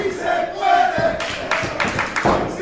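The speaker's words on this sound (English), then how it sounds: "The crowd is on fire." A wrestling crowd roars and chants loudly in an arena, with surging rhythmic bursts of shouting and cheering that swell and fall across a few seconds.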